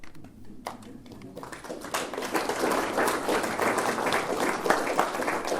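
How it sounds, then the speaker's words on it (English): A church audience at Knox Church claps for themselves, the applause starting sparse after a brief pause and swelling into steady, full clapping that carries to the end. "I'd like you to give yourselves a clap"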